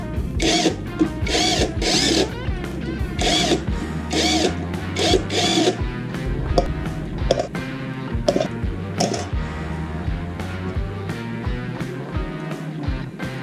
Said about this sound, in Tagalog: Gumamit na ako ng impact wrench nung maluwag na siya.